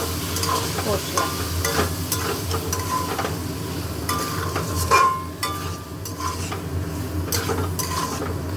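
A masala spice paste is stir-fried in a pan, sizzling steadily while a utensil scrapes and clinks against the pan in repeated strokes, close and fairly loud.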